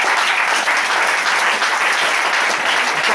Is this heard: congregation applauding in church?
yes